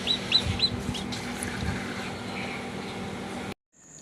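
A newly hatched chick from a homemade incubator peeps in short high chirps near and clear, a few quick calls over a soft hum before the sound cuts out.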